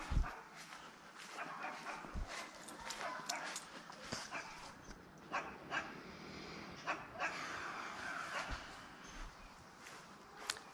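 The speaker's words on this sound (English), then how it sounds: "And the dog is still barking." A dog barks near a house under roofing work, sharp repeated yips and barks in irregular bursts with some whimpering, moderately close, while a person talks at times.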